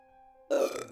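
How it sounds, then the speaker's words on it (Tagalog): A woman lets out a single loud, guttural burp as a horror story sound effect, abrupt and close, rising out of a faint sustained tone and trailing off after under half a second. "Dumighay ng malakas ang babae"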